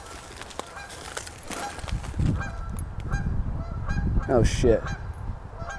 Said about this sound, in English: There's always a goose, always.